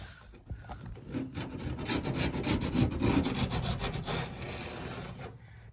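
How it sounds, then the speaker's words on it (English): A coarse metal file rasps a sharp burr off a window installation part, a run of close, gritty back-and-forth strokes building and then stopping, with no talk. "So I'm using 2 different files. The first one's a little bit coarser than the other one."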